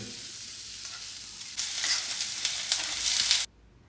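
Green chillies sautéed in a frying pan, a soft sizzle that jumps into loud, crackling frying with stirring for about two seconds before cutting off abruptly.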